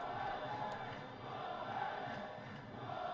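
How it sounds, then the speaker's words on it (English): Football crowd at Fratton Park cheering on Portsmouth against Sheffield Wednesday in League One: a distant, steady wash of massed voices and chanting that swells and dips slightly throughout. "getting behind Portsmouth here at Frampton Park"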